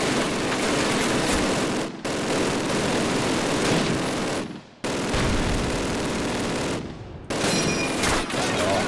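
Call of Duty 2003 gameplay with long bursts of rapid automatic gunfire and dense battlefield shooting, loud and continuous, broken by short pauses of near-quiet between volleys.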